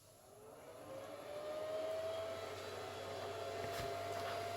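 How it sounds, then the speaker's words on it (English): Small electric vacuum pump running steadily while building a HUDY Air Vac RC differential, a continuous motor hum with a faint rising whine, close and constant throughout with no talking. "You only need to apply the vacuum for a few seconds for it to reach the full effect."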